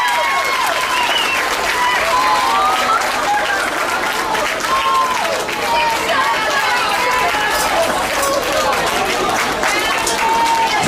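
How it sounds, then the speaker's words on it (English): A crowd applauds at a county fair youth swine show after a reserve champion is named, loud continuous clapping with lively chatter and calls running throughout. "Give her a nice round of applause."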